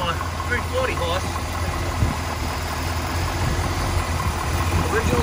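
A 1963 Corvette split window with a 340 horsepower engine idles quietly in a steady, low, even rumble, with a person talking over it.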